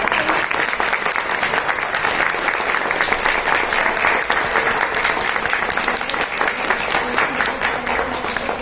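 An audience applauds steadily, dense clapping filling the space for several seconds with no pause or talk.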